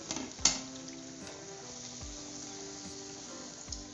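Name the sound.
lentil fritters frying in oil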